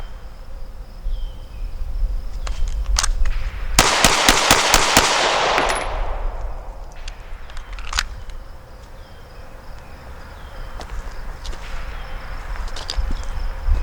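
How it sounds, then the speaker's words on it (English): A pistol fires six rounds at a target's center mass in a quick string of sharp cracks, bunched within about two seconds. Quieter clicks and handling noises come before and after, with no talking. "let's do the 6 rounds in the center mass"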